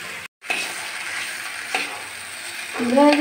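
Mixed vegetables with green chillies sizzle in a pan as they are stirred, a close continuous frying hiss broken by occasional spatula clinks and scrapes.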